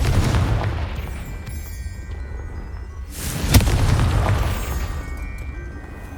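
A Confringo fire spell explodes in Hogwarts Legacy, giving a sharp blast followed by a swelling, rumbling roar that then fades under ongoing game ambience.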